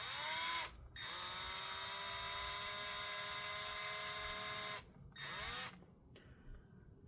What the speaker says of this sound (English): Let's try and drill a little bit more.